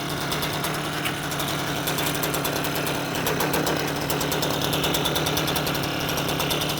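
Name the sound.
two-stroke scooter engine running with popping sounds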